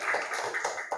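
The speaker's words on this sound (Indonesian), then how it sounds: "Boleh tepuk tangan." A classroom of students claps together in a brief, dense burst of applause, fairly close and steady for about a second.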